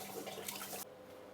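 Water runs and splashes while rice is rinsed in a pot, a close wet rush that cuts off abruptly to a quieter background.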